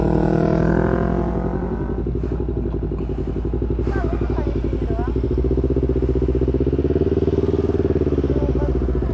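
A Yamaha YZF-R25 motorcycle engine throbs steadily nearby at a rough, pulsing idle and rises into revs, with people talking over it.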